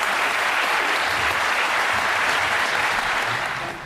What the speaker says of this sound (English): So please give all of yourselves a round of applause.